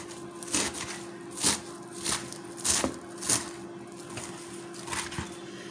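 Salad vegetables chopped finely with a knife on a board, a steady series of crisp, evenly spaced cuts heard close with light crunching and no talking.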